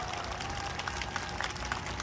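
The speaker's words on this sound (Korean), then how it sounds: "감사의 뜻으로 박수를 한번 크게 올려주십시오" Crowd applause at a political rally against impeachment, a dense continuous clapping from a large gathering, fairly loud and steady across the short moment.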